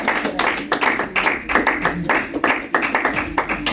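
A church congregation clapping in rhythm to acclaim their king, a dense, uneven patter of many hands with a few voices faintly mixed in.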